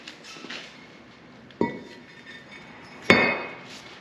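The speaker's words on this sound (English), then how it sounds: "Little hammer on that takes that right off." Two sharp metallic hammer strikes ring out about a second and a half apart, each with a short metallic ring, plus fainter taps earlier, knocking off a brake part on a 2015 Jeep Grand Cherokee.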